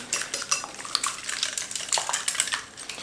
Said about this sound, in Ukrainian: Оцей цукор треба розмішати з яйцями так, щоб повністю така пенка з'явилась.